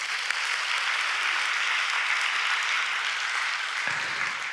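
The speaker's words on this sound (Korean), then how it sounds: "우리 박수 한번 하시죠" Dense, steady applause from a church congregation during a Sunday worship service, a continuous wash of many hands clapping at an even level, heard from some distance with no voices on top.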